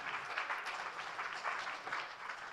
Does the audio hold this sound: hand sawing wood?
no